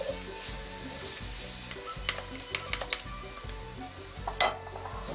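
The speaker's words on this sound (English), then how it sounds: "What I want to do is lightly brown the rice" Rice toasts in a pan over a medium flame, a soft steady sizzle with occasional light scrapes and clinks of stirring, fairly quiet and close.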